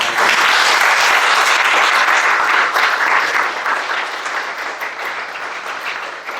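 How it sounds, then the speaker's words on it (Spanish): Church congregation applauding during a Spanish-language sermon, a large crowd clapping loudly and continuously, slowly tapering off toward the end. "Denle un aplauso al Señor."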